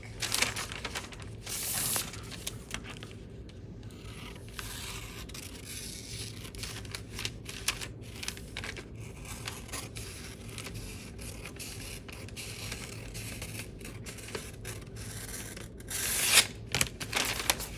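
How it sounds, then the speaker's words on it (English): Scissors cutting the seam allowance of blouse fabric, a run of quiet crisp snips and rustling cloth close by, with a louder burst of cutting near the end. "I'm gonna go ahead and cut this 1/2 inch seam allowance before I cut my neck."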